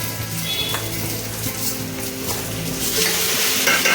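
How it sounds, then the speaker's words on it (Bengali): Gobindobhog rice added to a frying pan and stirred, a steady sizzle with scraping and clinking of utensil against the pan, close and continuous without talk. "এবার আমি এই চালটা অ্যাড করছি এর মধ্যে"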